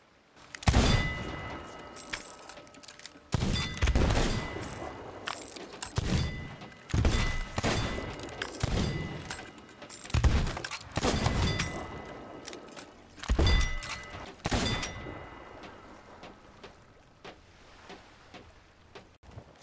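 A flintlock pistol fires in a video game: around eight sharp, loud shots at irregular intervals, each with a short ringing decay, with faint ambient game sound in between.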